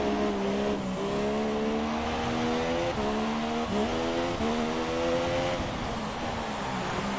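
F3 race cars on super soft tyres at a pre-season trial race in Hungary, engines howling steadily at high revs, with pitch dipping and climbing through gear changes, sustained and fairly close throughout.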